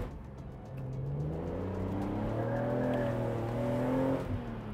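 A BMW Z4 M Roadster's engine revs hard on a road test, its pitch rising in repeated smooth climbs with no talk over it, loud and close from the cabin.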